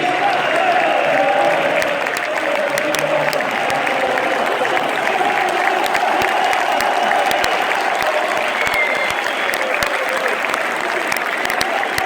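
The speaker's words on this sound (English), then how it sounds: "Big round of applause." A large stadium crowd at a Manchester City vs Everton football match applauds steadily as a player is substituted, the clapping dense, loud and continuous throughout without pause.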